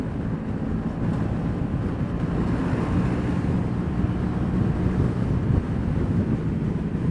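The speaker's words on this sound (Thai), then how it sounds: "ลมแรงจัดเลยอะ" Strong wind roars steadily against the rider of a Honda PCX scooter fitted with 17-inch wheels and an aftermarket exhaust, a dense, continuous low rumble of wind buffeting with the engine droning underneath, loud throughout with no speech.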